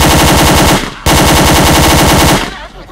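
Rapid automatic gunfire from a gun in the video game Roblox Area 51, a very loud, rhythmic stream of shots in two long bursts with a brief break, then tailing off.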